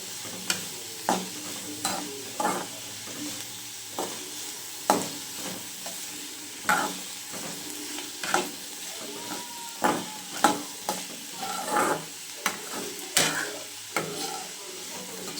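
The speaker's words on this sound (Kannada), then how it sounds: "ಈರುಳ್ಳಿ ಚೆನ್ನಾಗಿ ಫ್ರೈ ಆಗೋಕ್ಕೆ ಬಿಡೋಣ" Onions fry gently on a low flame for egg bhurji, a soft continuous sizzle broken by regular scraping strokes of a spatula against the pan, near and moderately quiet, with no talking.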